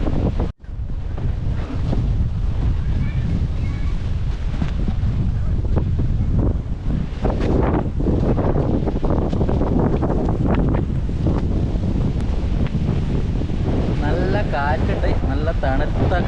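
Strong wind buffets the microphone in a constant loud roar, with faint voices and distant surf-like noise underneath.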